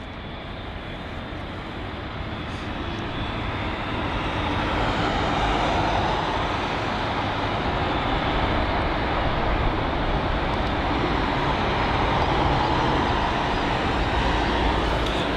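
A jet airliner on approach to land at London Heathrow makes a broad, steady engine roar that stays loud and close, swelling slightly over the first few seconds and holding level as it passes.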